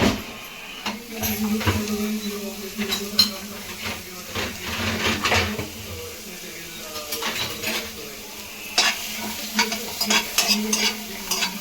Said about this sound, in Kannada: ಮೊದಲಿಗೆ ಸ್ಟವ್ ಆನ್ ಮಾಡಿ ಈರುಳ್ಳಿ ಮತ್ತು ಬೆಳ್ಳುಳ್ಳಿ ಸ್ವಲ್ಪ ಬ್ರೌನ್ ಕಲರ್